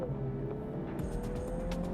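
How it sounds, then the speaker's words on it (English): A 2020 Mini GP engine drones steadily with a throaty intake hum, its pitch climbing slightly as it accelerates. "There's a nice little induction noise."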